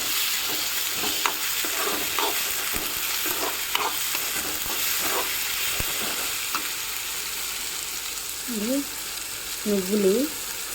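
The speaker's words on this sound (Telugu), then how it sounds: "ఇంకా టమాటాలు, పచ్చిమిరపకాయలు ఇలా అయితే ఫ్రై చేస్తున్నాను." Tomatoes and green chillies frying in a pan give a steady sizzle with scattered stirring scrapes and clinks, close by, and a short bit of faint voice near the end.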